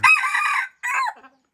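A wild junglefowl rooster gives a loud, close crow in two parts: a long ringing call, a brief pause, then a shorter falling finish.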